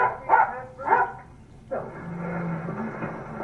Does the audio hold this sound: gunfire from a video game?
no